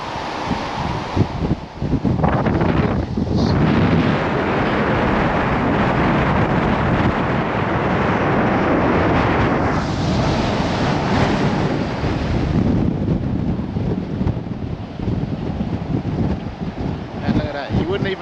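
Strong wind on a cliff at Dover buffets the microphone in a loud, continuous roar with gusty surges, masking everything else for the whole stretch.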